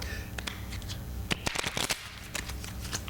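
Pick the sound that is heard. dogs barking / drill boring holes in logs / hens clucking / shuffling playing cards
shuffling playing cards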